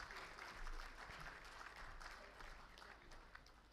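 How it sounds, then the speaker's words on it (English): Audience applause at an awards ceremony welcoming guests onto the stage, a steady wash of many hands clapping together from start to finish with a lively crowd behind it. "Let's have a huge, huge, huge round of claps for this esteemed welcome on the stage."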